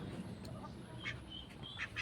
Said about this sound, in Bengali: এদিকে হাঁসগুলো বেঁধে রেখেছি।